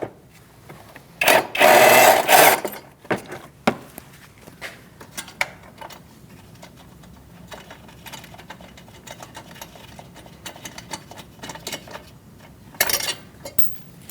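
A ratchet with an 8mm socket undoes a fastener on the front bumper cover of a 2008-2014 Mercedes-Benz C300, giving quick bursts of rapid clicking between scattered small metallic clicks and knocks.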